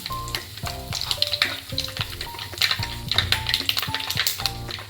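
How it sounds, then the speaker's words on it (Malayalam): Mustard seeds, fenugreek and curry leaves crackle and pop in hot oil for a dried prawn and mango curry, a busy, rapid spluttering heard close under a melodic background music track. "എണ്ണ ചൂടായി വന്നിട്ടുണ്ട് അതിലേക്ക് അര ടീസ്പൂൺ കടുകും കുറച്ച് ഉലുവയും ഇട്ട് പൊട്ടിക്കാം കറിവേപ്പില ഇട്ട് കൊടുക്കാം"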